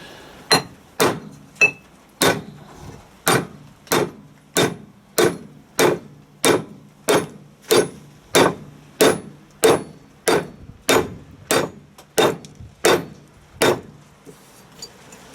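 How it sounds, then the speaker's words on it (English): Repeated sharp metallic hammer strikes on a bearing in a Land Rover Defender TD5 LT230 transfer box, about twenty-five blows in an even, steady rhythm, close and loud with nothing else in between. "I'm always wary of hitting it with a hammer"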